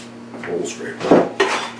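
A bowl scraper drags and scrapes around a dough bowl during flatbread making, giving a few close, dry scraping and clinking sounds in short bursts over a steady low hum.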